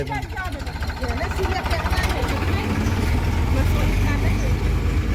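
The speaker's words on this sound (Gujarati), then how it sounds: "એક ટ્રેક્ટર જાય છે, બીજું ટ્રેક્ટર આવે છે." A tractor engine runs on a farm with a steady, low, rumbling drone throughout, while people talk over it.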